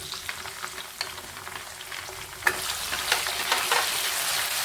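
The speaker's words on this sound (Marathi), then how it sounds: "आता टोमॅटो टाकूया आपण याच्यामध्ये।" Tomatoes tossed into a pan after ginger-garlic paste for a traditional Bhogi bhaji, frying and stirred: a continuous crackling sizzle with spatula scrapes that grows louder after a clatter midway.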